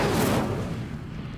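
A fire spell cast in a Harry Potter wizarding game erupts in a single loud whooshing burst that fades over about a second and a half, with no voices.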